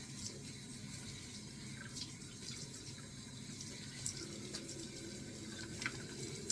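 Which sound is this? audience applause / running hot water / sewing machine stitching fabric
running hot water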